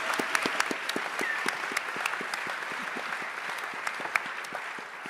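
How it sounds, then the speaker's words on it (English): An audience at a Berlinale Talents panel in a hall applauds a gentleman, a steady round of clapping with crisp close claps popping above the general patter throughout. "Applause to this gentleman."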